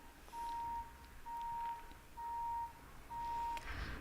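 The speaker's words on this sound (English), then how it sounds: "sorry for the beeping once again." Four evenly spaced electronic beeps, like a reversing truck's warning signal, sound at a steady mid pitch in the background, each lasting about half a second, with quiet gaps between.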